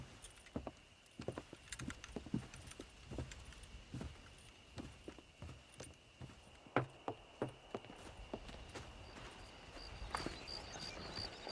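Horses walking in the Red Dead Redemption video game, with a rhythmic clip-clop of hooves on hard ground, fairly faint and uneven, under a faint steady background tone.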